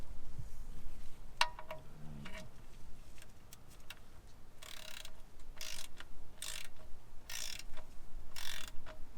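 Torque wrench tightening the oil drain plug on a Nissan 350Z to 27 foot-pounds, heard as a run of sharp ratchet clicks in short bursts with quiet gaps between them.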